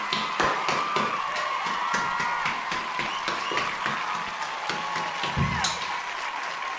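A studio audience on a talk show claps to welcome a guest, a steady crowd applause with sharp individual claps and no talking over it.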